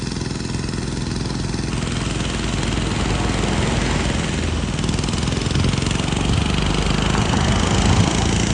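An agricultural pesticide sprayer engine runs steadily at close range, a loud continuous mechanical drone that holds an even pitch throughout with no pauses.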